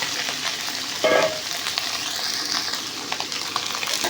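Vegetables fry in hot oil in a pan with a constant, close sizzle. A brief louder clatter of stirring comes early, and then the crackle carries on steadily.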